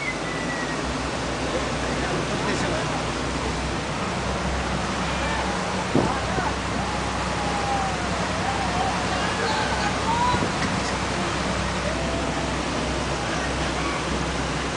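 Steady, dense rushing of heavy typhoon rain and flowing floodwater in San Pedro, Laguna fills the scene, with voices talking faintly underneath throughout.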